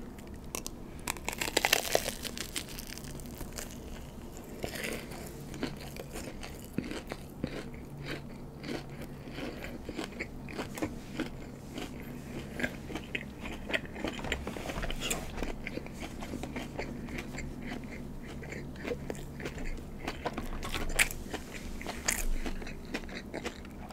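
Someone chews crunchy Korean mozzarella corn dogs for a long stretch, close to the microphone, with repeated crisp bites, crackles and wet chewing and no talking.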